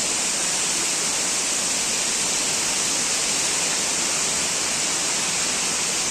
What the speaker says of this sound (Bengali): আরে দেখো ঝর্ণাটা দেখছো